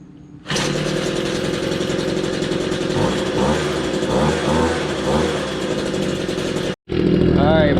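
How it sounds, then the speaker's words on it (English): A leaf blower starts up to blow water off a freshly washed car, jumping from quiet to a loud, steady motor roar that runs on, briefly cuts out, then resumes. "I always like using a leaf blower, so I'll go ahead and get this thing started up"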